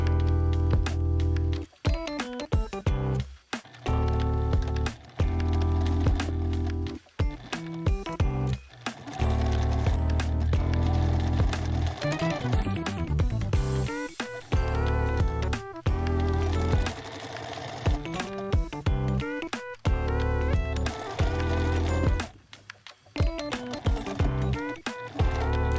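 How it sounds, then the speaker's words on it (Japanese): A sewing machine stitches all the way around the edge of a handmade floor cushion, running in long loud bursts of rapid, even stitching broken by brief pauses as the fabric is turned. "返し口を残してぐるっと一周ミシンで縫います。"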